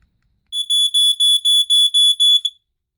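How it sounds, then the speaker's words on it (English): FireX G-6 smoke detector under test emits loud, shrill beeps in a slow rapid-fire burst pattern, roughly seven pulses in a row with no talking. "rather than the code 3 that you would expect it to do, it does the 4-6. It's actually more of a slower 4-6."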